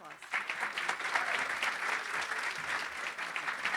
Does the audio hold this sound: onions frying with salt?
no